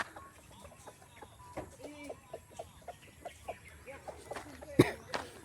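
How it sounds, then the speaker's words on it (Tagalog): Farmyard chickens cluck in a scattered, irregular series of short calls at close to middle distance, mixed with light rustling and a faint human voice or two in the background, ending on one louder squawk. "Ito yung manok natin, oh."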